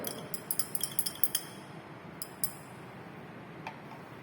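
A solution is stirred in a glass beaker during a conductometric titration of HCl, a quick run of faint, bright glassy clinks and ticks, then a few scattered taps over a quiet background hiss.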